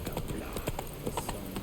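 Roach, the horse in The Witcher 3 video game, gallops with quick, rhythmic hoof clip-clops at moderate volume. The steady beats continue throughout with no pause.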